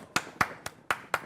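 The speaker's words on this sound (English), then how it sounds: "I just want to give a clap there." Five sharp hand claps at an even, unhurried pace, close and crisp with quiet gaps between them and no talking.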